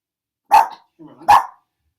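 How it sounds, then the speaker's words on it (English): A dog gives two sharp, loud barks close by, with a soft growl between them, during a stormy day indoors. "The dog is doing what dogs do when they hear noise."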